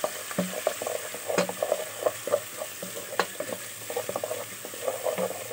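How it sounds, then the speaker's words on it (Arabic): Onion and garlic fry in oil in a pot for koshari, with a constant sizzle broken by frequent sharp crackles and spoon taps against the pan at close range, and no one speaking. "وهنحمرها كده في الزيت"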